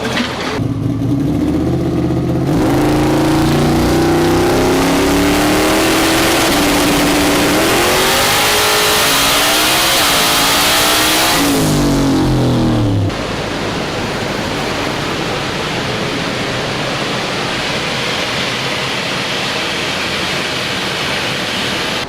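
A turbocharged Ford Coyote-engined Mustang making over 2000 horsepower revs hard on a dyno. The loud, sustained engine roar climbs and swells in pitch, then gives way to a broad rushing blast of noise, close and overwhelming.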